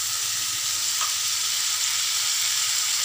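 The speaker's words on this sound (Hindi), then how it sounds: "चार से पाँच मिनट अच्छे से फ्राई कर लेंगे।" Minced meat (keema) frying in a pan, a dense, constant sizzle filling the short stretch with no pauses, close and fairly loud, with no voices present.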